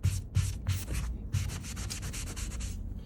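A wet Mr. Clean Magic Eraser scrubs a surface in quick back-and-forth strokes, a close, rhythmic rasping rub, steady and unaccompanied by speech.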